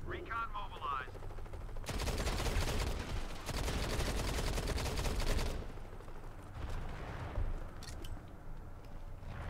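Sustained automatic gunfire in the mobile shooter Modern Combat 5: Blackout, a loud dense fusillade of rapid shots in the middle stretch, with scattered bursts and game effects before and after.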